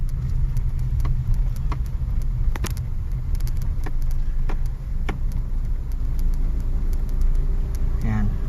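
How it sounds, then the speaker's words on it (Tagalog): Steady road traffic rumbles on a main highway in Caloocan City, with cars and engines passing continuously at close range and a few sharp clicks and bumps over the constant drone. "Main highway, main road yan."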